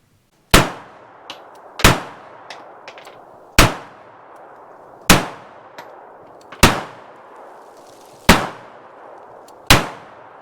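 A West German Walther P38/P1 pistol fires seven loud, sharp shots at a slow, fairly even pace, each crack followed by a ringing decay, with no talking.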